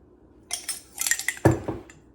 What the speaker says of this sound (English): Stir that up till it's well combined.